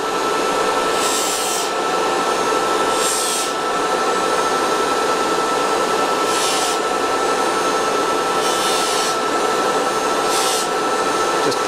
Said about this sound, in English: Just polishing it quite gently.